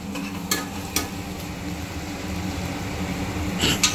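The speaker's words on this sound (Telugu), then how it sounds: "సో బాగా మిక్స్ చేసుకుందాం" Chopped onions for egg biryani are stirred in an oily pan, a soft steady sizzle broken by a few brief spoon scrapes, with a low background hum throughout.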